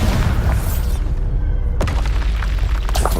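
A Bombarda exploding spell in Hogwarts Legacy goes off with a deep, loud boom, a rumbling blast that cuts briefly before a second sharp burst and continued roaring rumble.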